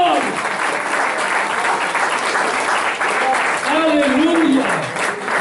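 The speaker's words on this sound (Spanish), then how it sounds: "Dale un aplauso de gloria al Señor." Church congregation giving loud, continuous applause during a sermon, dense clapping with cheering voices and shouts mixed in throughout.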